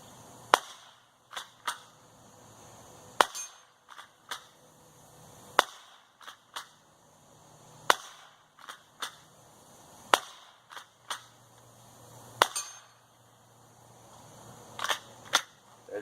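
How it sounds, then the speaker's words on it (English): Sharp, light rifle cracks from a Winchester Model 1890 firing .22 short rounds, a dozen or more spaced shots at irregular intervals, each with quick clicks of the action between them. "We're going to take a few shots here."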